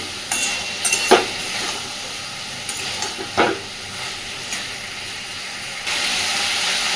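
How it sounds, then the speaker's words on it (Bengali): Potatoes and cauliflower sautéing in spice paste over medium-low gas, a continuous hissing sizzle with occasional spoon scrapes against the pan, close by with no voices. "দেখুন মশলার সাথে আলু আর ফুলকপি সুন্দরভাবে কষে নিয়েছি"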